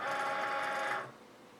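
A Cricut Maker cutting machine whirs as it loads a cutting mat, a steady mechanical motor hum that stops abruptly after about a second, leaving quiet room tone.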